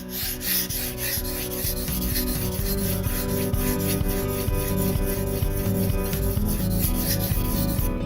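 Steady rasping strokes of a Spyderco PM2 knife with M4 steel being sharpened on a coarse stone, a continuous close scraping rub with no talking.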